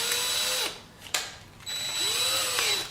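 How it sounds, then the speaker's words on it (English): A power drill enlarges a hole from 1/4 to 5/16 inch during repair work on a 1967 Chevy C10 Stepside pickup, running in two steady whirring bursts close up, with a brief pause and a click between them. "We might have to just drill the hole out larger."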